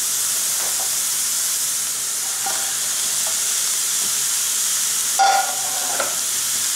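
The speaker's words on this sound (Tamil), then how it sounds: "இப்போ நான் வந்து சிக்கன் இதில் ஆட் பண்ண" Chicken pieces for chilli chicken 65 hiss and sizzle steadily in a hot pan, with a few faint spoon clinks and one brief louder scrape.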